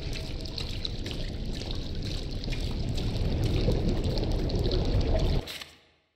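Ink dripping and trickling in the game Bendy and the Dark Revival, a steady watery pour and dribble lasting several seconds before cutting off and fading.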